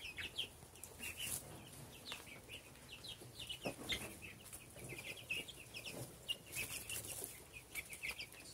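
Broiler chickens cluck and chirp in scattered bursts over a busy outdoor background, with a brief flutter of activity; no talking.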